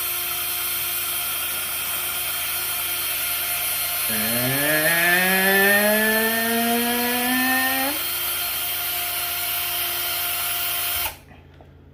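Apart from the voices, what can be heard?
power drill drilling a hole in paper mache clay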